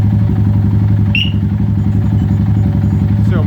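A Yamaha XT660X motorcycle engine idles steadily and loudly, with a low, even thrum throughout and a brief high electronic chirp near the start, likely from a Pandora alarm arming.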